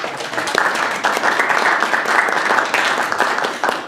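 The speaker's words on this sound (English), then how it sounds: "So he definitely deserves a round of applause like that." Loud, close applause from a panel discussion audience rolls on steadily for a few seconds, with dense overlapping claps and no speech over it.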